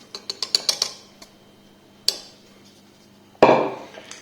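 A utensil clicks rapidly against a bowl while mixing cake batter with courgettes, a burst of quick taps followed by a few sharper, separate knocks.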